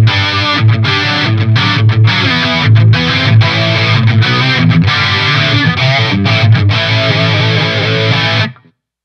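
An electric guitar played through Line 6 Helix distortion and Trinity chorus models gives loud, saturated chords and riffs with short rhythmic breaks, then cuts off abruptly at the end.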